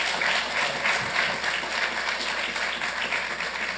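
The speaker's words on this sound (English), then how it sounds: "Please give him a big round of applause" Applause at a city council meeting honouring Diego A. Sarmiento, a sustained room full of clapping at steady volume, fairly close, with no speech over it.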